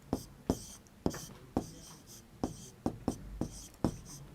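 Chalk tapping and scratching on a board during a Class 3 maths lesson, a close series of about ten short strokes in a brisk irregular rhythm, faint and alone.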